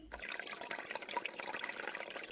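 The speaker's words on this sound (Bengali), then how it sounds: "তাড়াতাড়ি বালতির মধ্যে জলটা ঢেলে নিই" Water pours steadily into a bucket at close range, a continuous splashing fill with no break.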